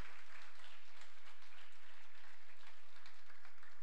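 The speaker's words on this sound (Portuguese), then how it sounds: "Vamos dar um aplauso a Jesus, querido, para agradecê-lo sempre por tudo." Church congregation applauding, a steady broadband wash of clapping from many hands sustained throughout, fairly faint and diffuse as if from across a worship hall.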